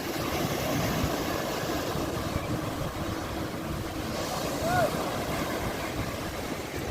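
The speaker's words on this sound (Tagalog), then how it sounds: "Medyo maalon." Steady, rushing wash of sea waves on a crowded beach in Cagayan de Oro on a late afternoon, a broad continuous roar at moderate distance with no clear voices.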